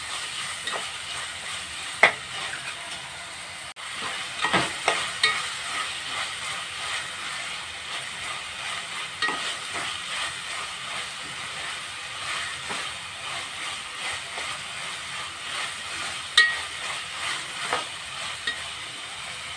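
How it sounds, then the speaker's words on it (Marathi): Ginger-garlic paste sautéing in a pan for a spicy Maharashtrian chutney, a steady soft sizzle with intermittent scraping stirs and occasional utensil clinks, close and moderately quiet, no talking. "त्यामध्ये आपण आलं लसूणची पेस्ट टाकूया. ती छान परतून घेऊया."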